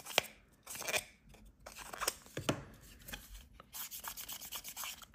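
A SEGA Mega Drive cartridge being cleaned, with dry rubbing and scraping strokes in short bursts and pauses, close and moderately quiet, with no talking.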